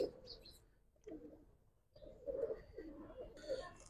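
Giribaz and khaki pigeons cooing softly in a loft, low throaty coos repeating in short bursts with faint chirps and rustling in between.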